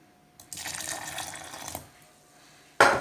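Water poured onto jaggery for a sesame drink, a short close splashing pour lasting about a second, then quiet and a brief sharp burst at the end.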